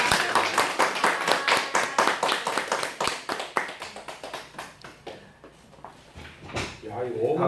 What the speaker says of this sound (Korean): 다시 한번 더 동시에 한번 크게 한번 박수 한번 하겠습니다.